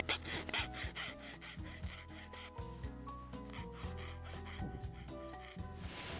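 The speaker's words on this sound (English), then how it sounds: "I want to file that down so it's got a nice clean edge." Hand filing smooths a V-cut edge on a primitive atlatl dart, with steady rhythmic rasping strokes of wood being rubbed close up, continuous and fairly loud with no talking.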